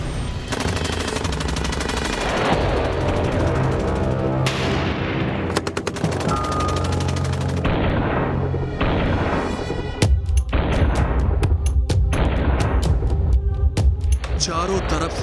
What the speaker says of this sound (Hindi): चारों तरफ से बरसते बम बारूद और रॉकेट। तालिबान आतंकियों के साथ अफगान फोर्सेस की भयंकर जंग।